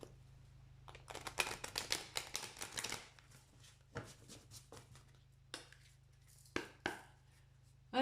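A deck of tarot cards is shuffled up close in quick riffling bursts, with a dense flurry early on and a few isolated flicks and taps later in a quiet room.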